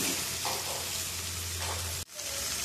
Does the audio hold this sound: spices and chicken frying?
yes